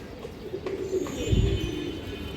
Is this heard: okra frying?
no